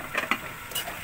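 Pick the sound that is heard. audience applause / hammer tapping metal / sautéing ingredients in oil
sautéing ingredients in oil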